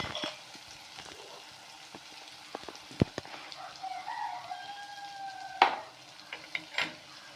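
Tomatoes, green chillies and crushed pepper sautéing in a pan with a soft background sizzle broken by scattered clinks and scrapes of a spoon against the pan, close and without talk.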